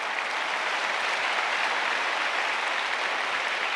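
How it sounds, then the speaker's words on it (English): An audience at an awards ceremony applauds, a dense, steady wash of many hands clapping at once that stays even and loud from start to finish. "When he says he will be supporting the women, the more claps are from this side."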